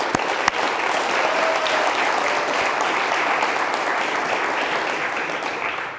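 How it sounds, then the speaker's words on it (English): Sustained, even applause fills a room at a Hall of Fame ceremony, a dense wash of many hands clapping, loud and continuous, with a couple of sharp claps near the start. "let's give Kim Rogers a round of applause"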